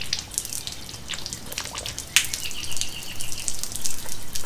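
Water sputters and gushes while flushing through a Mercury 250 Pro XS outboard motor, with irregular dripping splashes and hissing spray that swell louder in the second half.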